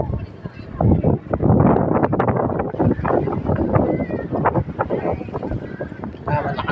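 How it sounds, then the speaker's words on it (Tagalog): Strong wind gusts at the Calamba, Laguna baywalk roar across the microphone in a dense, steady rumble, with a person talking over it throughout. "Malakas po hangin."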